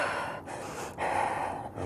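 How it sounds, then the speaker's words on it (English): Someone breathes deeply and rapidly, as in a panic attack, with several loud, noisy gasping breaths in quick succession, close to the microphone. "so then it's deep and fast, and it sounds like it even makes more noise"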